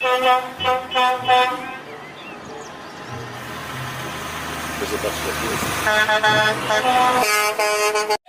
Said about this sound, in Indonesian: Wah, kalau yang ini ada truk kontainer.